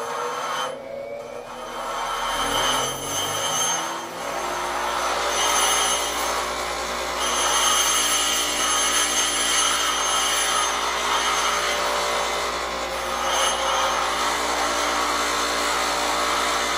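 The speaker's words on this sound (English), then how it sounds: "Just try to grind it back a little bit more." A lathe tool bit is ground on a bench grinder, producing a loud, continuous abrasive whine and rasp that spins up over the first few seconds and then holds steady with slight fluctuations throughout.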